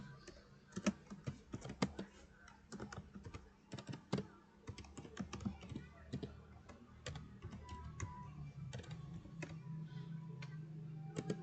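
A command being typed on a computer keyboard, heard as close, irregular bursts of soft key clicks with short pauses between words.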